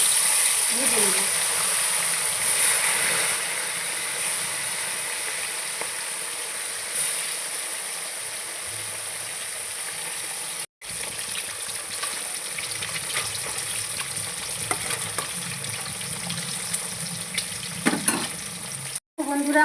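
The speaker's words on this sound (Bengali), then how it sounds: "এবার এর মধ্যে মাছগুলোকে দিয়ে ভেজে নেব।" Pieces of tilapia fry in hot oil in a wok with a loud, steady sizzle and the occasional scrape of stirring; the sizzle drops out for a moment twice near the end.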